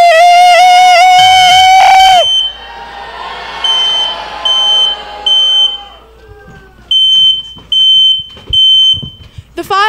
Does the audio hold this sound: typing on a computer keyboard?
no